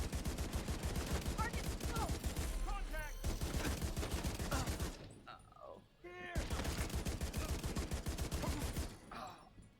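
Auto rifle fire in The Division 2 video game, long rapid sustained bursts of loud, evenly spaced shots that stop briefly and resume, with talk mixed in during the pauses.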